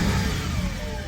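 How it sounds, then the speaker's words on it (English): An Audi A6 4.2 Quattro V8 that has sat for a couple of weeks revs on its first start, giving a loud, steady engine roar held close by, with no talk over it. "Revving real nice, you know."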